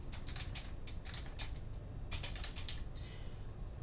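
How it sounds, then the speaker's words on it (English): Fingers tap on a computer keyboard in quick, uneven bursts of close clicking with brief pauses and a quieter stretch near the end, over a steady low room hum. "So I'm typing this is a test"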